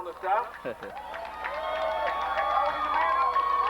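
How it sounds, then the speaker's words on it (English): A high school football crowd rises in a standing ovation, sustained cheering and clapping from the stands swelling under a commentator's play-by-play. "And a standing ovation from the crowd."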